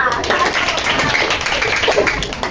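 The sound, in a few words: classroom applause for a student group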